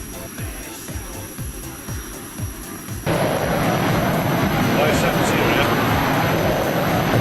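Aircraft jet engine roar in the FlightGear flight simulator, a low rhythmic pulsing that jumps abruptly to a louder, steady broadband rush as the engine accelerates, with a steady high whine throughout.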